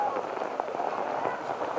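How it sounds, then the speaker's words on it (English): Heavy, thick rain pours steadily over an outdoor under-18 boys' rugby match between Tonga and Samoa, a dense continuous hiss with a commentator's voice over it. "It's so thick, this rain is coming down"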